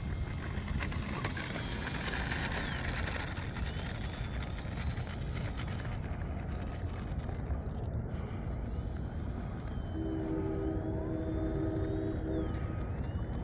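An FMS Ranger 1220mm V2 RC airplane taxis with a steady electric motor hum under constant broadband noise, joined late by a faint high whine.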